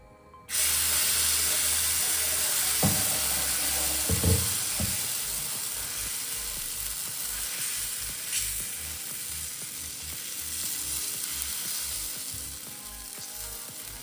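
Adai dosa batter sizzles steadily on a lightly oiled dosa griddle, a loud, close, continuous hiss that starts abruptly and holds for the rest of the clip, with a few faint clinks of utensils.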